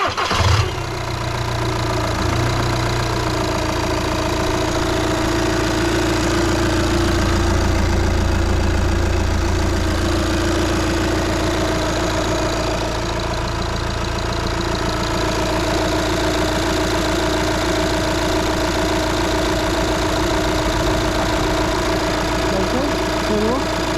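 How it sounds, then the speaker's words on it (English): Audi TT 2.0 TDI 170 bhp diesel starts after an oil change and then idles steadily with an even, knocking diesel rumble, loud and close for the whole span. "So we'll now fire it up and let it fill the oil filter up."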